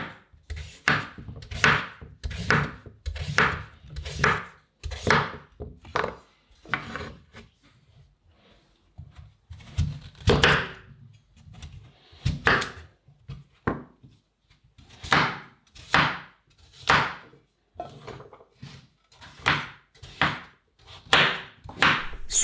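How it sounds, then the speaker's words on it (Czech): A knife cutting pumpkin on a wooden board for soup, a rhythmic series of rasping, scraping strokes that come close together in bursts with short pauses between them and no talking. "zatímco jsem krájel dýni"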